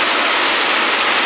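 Heavy rain from Typhoon Enteng pours down in a loud, dense, unbroken roar that stays steady throughout, with no voices.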